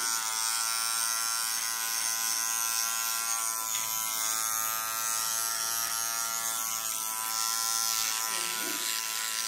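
A hair clipper set to 0.5 hums as it cuts hair, a constant loud electric buzz that holds steady for nearly ten seconds at close range.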